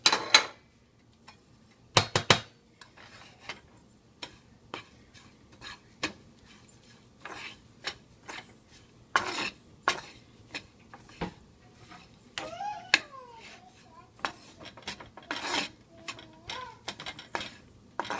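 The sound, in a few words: roasting barley flour and oats in a pan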